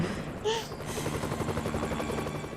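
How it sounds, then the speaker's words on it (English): A helicopter boss firing at the player in a Family Guy video game, with steady rotor chop and rapid gunfire rattling under faint background sounds, fairly loud and continuous. "there's a helicopter that's shooting at you"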